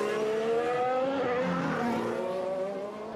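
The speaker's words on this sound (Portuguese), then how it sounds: "E o Verstappen vai acelerando." A Formula 1 car driven by Verstappen accelerates during a TV race broadcast, its high engine whine climbing steadily in pitch, loud and continuous with no talk over it.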